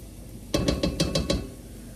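Short run of scraping and clinking as cooked harira base is worked off the bottom of a pot, about six quick rhythmic strokes close up over a low kitchen hum.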